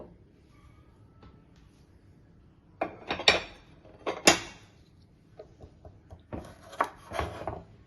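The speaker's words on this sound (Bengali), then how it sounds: "ভেন্ডিগুলোকে কেটে নিতে হবে।" Fresh okra pods are cut with a knife on a board for cooking, giving several sharp chopping knocks in small clusters with quiet gaps between them, close by and fairly loud, with no talking.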